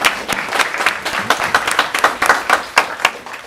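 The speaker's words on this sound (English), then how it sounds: "I'd just like to give you a round of applause" Audience applause at a school board of education meeting, a sustained round of clapping from a room full of people, steady and moderately loud with no talking over it.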